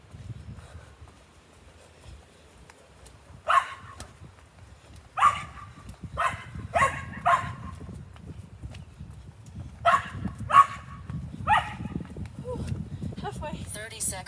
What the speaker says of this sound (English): the dog is playing.